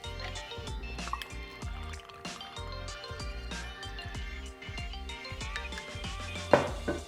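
Gin poured into a glass or shaker for a Long Island Iced Tea, a steady liquid trickle with small drips, heard close and alone without any talking.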